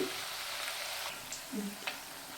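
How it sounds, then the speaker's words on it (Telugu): Appadalu papads, made with butter in Andhra style, frying in hot oil: a faint, steady sizzling hiss with a few soft crackles throughout. "చూసారు కదా ఎంత బాగా వేగుతున్నాయో అప్పడాలు."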